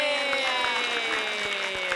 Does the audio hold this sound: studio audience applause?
yes